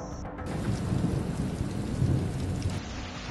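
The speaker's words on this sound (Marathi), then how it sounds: "छत्रपती संभाजीनगरमध्ये पावसानं थैमान घातलं" Heavy pre-monsoon rain pounds down in Chhatrapati Sambhajinagar, Maharashtra, a dense, steady roar of downpour on surfaces with deep rumbling underneath, loud and continuous throughout with no voices.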